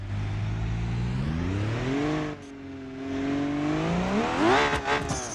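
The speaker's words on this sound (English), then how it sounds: "Sounds like the turbo gets stuck spooling." Turbo spooling on a car in BeamNG.drive: a steady engine drone with rising and falling whine, a brief dip in revs, then a climbing whistle and surge near the end, close and loud.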